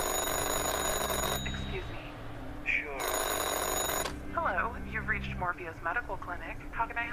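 A telephone rings in the horror video game Anthology of Fear, with two loud electronic ring bursts separated by a pause. Someone talks softly under and after the ringing.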